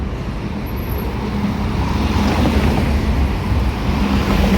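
Steady road traffic noise from a congested road, a continuous low rumble of vehicles with a broad hiss, loud and unbroken throughout, with no voices.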